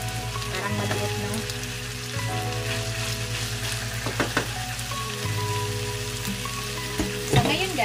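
Ground beef sizzles in a small frying pan, a continuous close crackle over a steady hum, broken by a few sharp clinks and stirring sounds.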